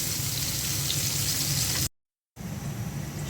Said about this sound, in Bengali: মাছটা হালকা করে ভেজে নিলাম, বাকি মাছগুলো দিয়ে দিচ্ছি।